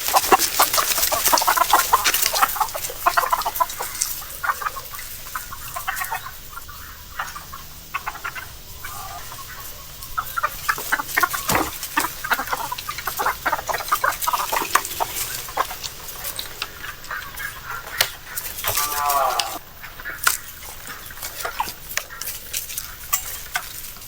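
Laying hens on a small farm cluck and squawk during feeding, with scattered scratching, rustling and clatter of feed mixed through, moderately loud and close.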